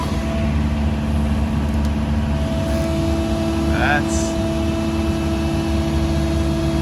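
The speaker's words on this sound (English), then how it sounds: "this tractor's maxing out for sure" A tractor engine runs at a steady, heavy drone, straining under load while lifting a big stone during a koi pond build, loud and continuous throughout with a few faint higher chirps midway.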